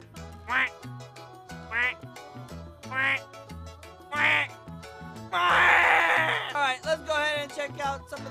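Repeated duck quacks in a Roblox game, about five evenly spaced loud honking calls followed by a longer burst of dense quacking, close and clear with no talk over them.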